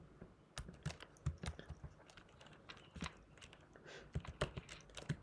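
Computer keyboard keys clack in quick irregular bursts of typing, close and quiet, with short pauses between runs of keystrokes and no speech.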